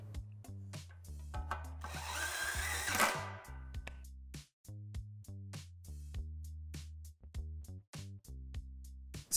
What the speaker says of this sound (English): insert the screw into the chuck of your gun and complete the step that way